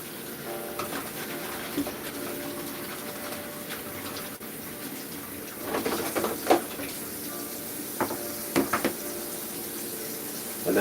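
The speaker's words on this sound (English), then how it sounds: "I'm going to wash my lettuce." Lettuce being washed under a running kitchen tap: a steady close hiss of flowing water with intermittent splashes and rustling bursts as the leaves are handled, no speech.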